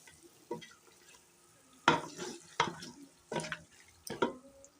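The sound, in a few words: beef being stir-fried in masala for nehari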